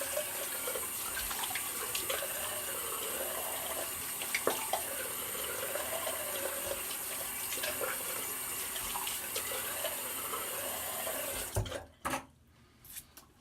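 A bathroom tap runs steadily for a rinse after shaving, water splashing into the sink for about eleven seconds before it is shut off, leaving a few brief drips and clatters.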